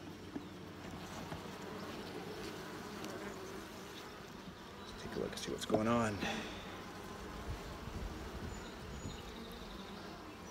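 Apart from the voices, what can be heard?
honeybees buzzing around an opened nuc hive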